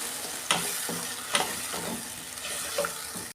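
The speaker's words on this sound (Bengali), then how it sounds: "আদা রসুন দিচ্ছি। অল্প একটু জল দিচ্ছি। এই মশলাটাকে আমি কষাবো ভালো করে।" Ginger-garlic spice paste with a splash of water fries and sizzles steadily in a pan while a spoon stirs and scrapes it, with several louder scraping strokes over the constant close sizzle.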